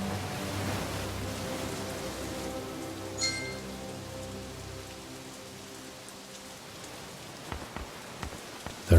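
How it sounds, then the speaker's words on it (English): Steady rain falls in the video game The Dark Eye: Chains of Satinav, a continuous dense patter with a low background drone, ending with a couple of soft knocks. "Thanks for the rain, Efford."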